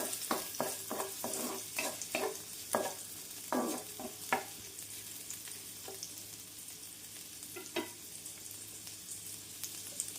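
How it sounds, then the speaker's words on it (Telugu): Finely chopped shallots and green chillies fry in hot oil for street-style chicken noodles, a steady soft sizzle broken by a run of spatula taps and scrapes against the pan, then quieter stirring, close but low in level. "సన్నగా కట్ చేసిన చిన్నులపాయ ముక్కలు వేసుకోండి తర్వాత పచ్చిమిర్చి సన్నగా కట్ చేసినవి ఇవి కొంచెం వేగనిద్దాం"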